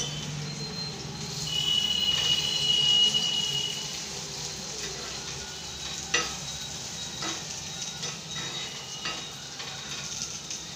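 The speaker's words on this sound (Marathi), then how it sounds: "भेंडी गरम झाली आपलं झाली का बघा. थोडी उलटी पलटी करायची तिला." Okra sizzles in a hot pan while being turned, a steady close hiss with a louder burst early on and scattered scraping clicks of a spatula, no talking.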